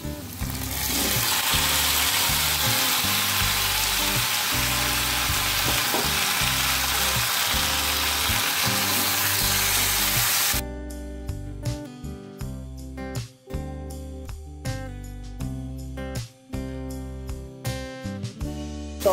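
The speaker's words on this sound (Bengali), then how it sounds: "এবার ম্যারিনেট করা চিকেনটা দিয়ে দেবো" Marinated chicken hits a pan of well-fried onions, a loud, continuous sizzle and spatter for about ten seconds, then quieter frying with stirring and clattering under a music track.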